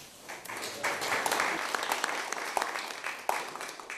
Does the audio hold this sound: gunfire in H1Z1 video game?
no